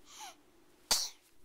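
A young child gives one sudden sharp sneeze up close, after a brief higher breathy sound at the start and then a fading exhale.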